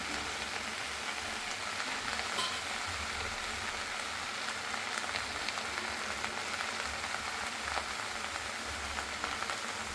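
Amaranth leaves (thotakura) with turmeric being stirred in a pan, a steady soft crackling hiss lasting throughout at a low, even level with faint scraping textures and no voices.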